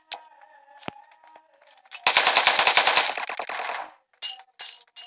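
Gunfire in the video game PUBG New State, a rapid burst of automatic shots about a second long, followed by a few scattered single shots nearby.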